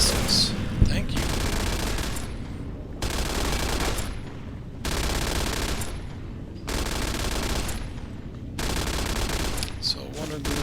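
Automated turret in the video game Fallout: New Vegas firing at robots, sustained rapid gunfire bursts lasting about two seconds each, separated by short pauses, loud and repeating throughout.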